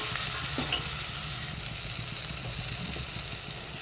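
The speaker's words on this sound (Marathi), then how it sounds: "चला आता परतून घेऊया आपण." Rice with biryani masala and mutton masala being stirred and sautéed in a pan, a constant close sizzle with scraping stir sounds throughout.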